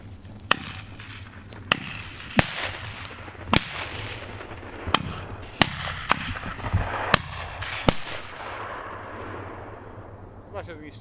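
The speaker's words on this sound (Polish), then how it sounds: "Teraz wyrzutnia hukowa." Night pyrotechnics fired from a banger launcher on a frozen lake, a series of about nine sharp, loud bangs spaced roughly a second apart, each trailed by crackling echo, with people talking quietly in between.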